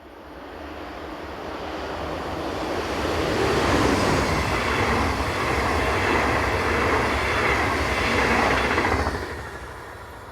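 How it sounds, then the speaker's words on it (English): A Class 402 ICE high-speed train set rushes past on the Bremen–Hannover line in Germany, a broad roar swelling to a loud close pass with faint rail clatter, then cutting off sharply near the end. "ICE services run at 2-hourly intervals in each direction and are mainly formed of these Class 402 train sets."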